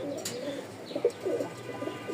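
Feather-footed Top Collete pigeons kept in pairs give soft, low coos, quiet and close, with a couple of short rising notes over a hushed indoor background.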